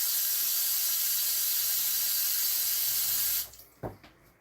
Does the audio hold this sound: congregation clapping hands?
no